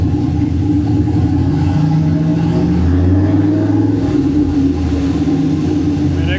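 An OBS car's engine runs at a loud, steady rumble close by, with the pitch rising and falling in a few gentle revs over the idle drone and no voices.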